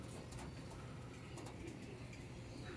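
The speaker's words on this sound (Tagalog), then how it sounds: "Buti na lang, nagbabaan na yung mga ibon natin." A flock of pet birds, likely pigeons, coming down to land, with faint cooing and soft wing sounds under steady outdoor background noise, distant and quiet.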